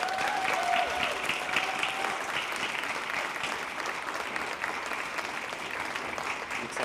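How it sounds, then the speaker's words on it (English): Steady crowd applause at a university Oscars-style celebration, moderately distant and sustained throughout, with a faint voice briefly at the start. "So please give them a round of applause"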